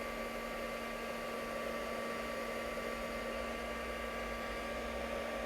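A heat tool blows a constant, even whoosh with a faint steady hum as it melts embossing powder in a papercraft project, running alone without a break.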